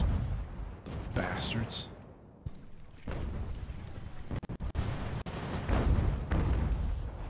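Distant mortar artillery fire in an American Revolution battle, rumbling booms and cracks scattered through a steady low roar of combat, with a voice speaking briefly.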